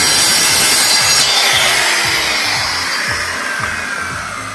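A saw cutting through the wood of a wardrobe, a loud, continuous rasping buzz with a steady stroking rhythm that fades slightly toward the end.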